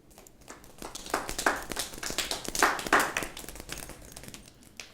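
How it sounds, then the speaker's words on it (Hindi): Group of people clapping hands together in a rehearsed burst, with quick irregular claps swelling into a dense patter and then fading, heard fairly close with no talk over it. "ऐसे ऐसे ताली का बरसात करेंगे आप।"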